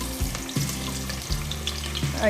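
Fennel seeds and onions frying in a pan for soya veg pulao, a steady close sizzle with a few scraping stir sounds and no talking.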